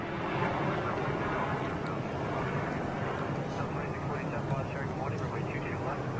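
A small FedEx cargo plane flies overhead, its steady broad engine roar holding at an even, fairly loud level throughout, with people chatting over the drone.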